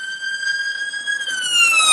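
An ambulance siren wails loud and close, a steady high tone that drops in pitch as the vehicle passes by, heard alone with no talking.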